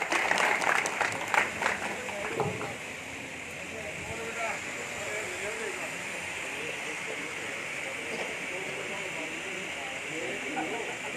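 Applause from a Congress rally crowd in Sikar, a burst of clapping at the start that quickly fades into a steady hissing wash of crowd noise under a voice on a loudspeaker.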